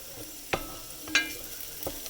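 Garlic frying in a pan for curry rice, a soft, low, continuous sizzle with three brief, sharper scrapes of stirring spaced across the short stretch, close by and with no talk.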